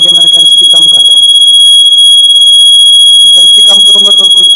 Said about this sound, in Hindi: जैसे ही मैंने इंटेंसिटी थोड़ी सी बढ़ाई है, फ़ौरन जो है इसका अलार्म बजना शुरू हो गया